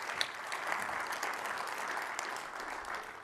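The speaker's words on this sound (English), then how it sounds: "Give it a round of applause" Audience applause at a business technology conference session, a steady wash of many hands clapping that holds evenly for the whole stretch at moderate distance, with no voices over it.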